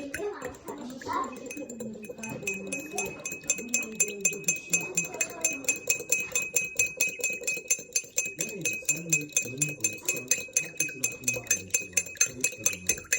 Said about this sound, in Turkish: Böyle karıştırıp olamayınca bence kaşıkla karıştır.